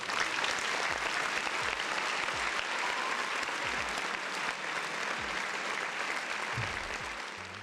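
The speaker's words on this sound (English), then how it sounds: "Round of applause for the folks in the chat." Sustained dense applause from a crowd, loud and continuous for several seconds with no pauses, holding steady before easing slightly at the end.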